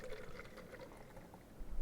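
Water is poured into a plastic pot fitted with a screen, part of a homemade bird waterer, producing a soft, steady pouring and trickling sound with a louder splash right at the end.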